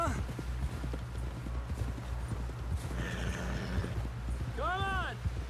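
A horse from Red Dead Redemption 2 clip-clops along in a steady gallop with close hoofbeats, then whinnies loudly near the end, all under a low music bed.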